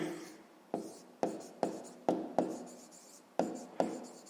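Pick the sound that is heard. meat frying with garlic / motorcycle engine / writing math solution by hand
writing math solution by hand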